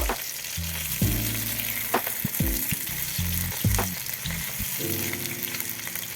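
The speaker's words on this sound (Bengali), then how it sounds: "এবার অপর পিসটাটাও আমি খুব ভালো করে ভেজে নেব" Pieces of fish, coated in a ground sesame paste for an Assamese recipe, frying in hot oil with a steady, close sizzle and intermittent clatter and scraping of a utensil as the pieces are turned.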